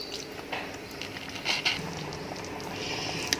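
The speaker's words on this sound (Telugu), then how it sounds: "సో ఈ కర్రీని అట్లీస్ట్ 6 to 7 మినిట్స్ వరకు మనం కుక్ అవ్వనిద్దామండి." Potato curry simmers in a pan, a steady soft bubbling and popping close by with brief brighter crackles, no voices over it.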